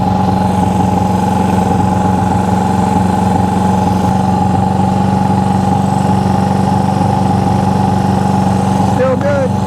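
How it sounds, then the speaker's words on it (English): A Honda CB360 motorcycle engine runs steadily at a loud, close idle throughout, with a constant hum and someone talking faintly over it near the end. "hear my voice over all the motorcycle noise"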